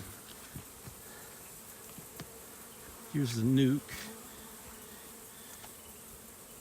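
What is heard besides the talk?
honey bee swarm buzzing while being hived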